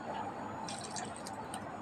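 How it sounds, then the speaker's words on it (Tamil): Water is poured into wheat flour for homemade pizza dough in a kitchen, making a steady, close trickling and splashing that runs throughout with faint drips. "கொஞ்சம் கட்டியாக இருக்குது, தண்ணி ஊற்றுறேன் நான்"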